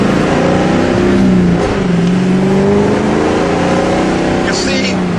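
A Ford 6.0 Powerstroke diesel truck engine is put under load during a head gasket test, its loud tone droning and shifting in pitch as revs rise and fall, with a voice speaking over it.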